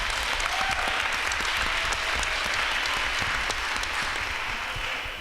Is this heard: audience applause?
yes